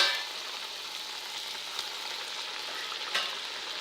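Carrot-stuffed sweet snacks fry in hot oil, giving a steady, continuous sizzle with a few soft pops and stirring clicks, close and alone without any talking.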